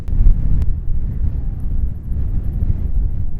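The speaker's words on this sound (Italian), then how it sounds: "Il vento è talmente forte che mi sta spostando troppo in alto le nuvole." Strong wind on a Madeira mountain trail between Pico Ruivo and Pico do Arieiro roars and buffets the microphone in a continuous, heavy rumble with no voices.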